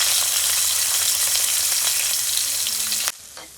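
Green chilies hiss and sizzle in hot oil with popped mustard seeds, a loud, steady frying crackle that runs for about three seconds before it cuts off abruptly and leaves a quieter simmer.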